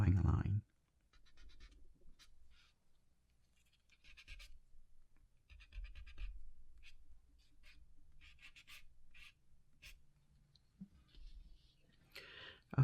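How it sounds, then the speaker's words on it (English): A kneaded eraser rubs out preliminary colored pencil lines on toned paper for a swan drawing, giving faint, scattered scratching strokes with pauses between them. "I'm going to use the nitty eraser. I'm going to remove a little bit this preliminary drawing line."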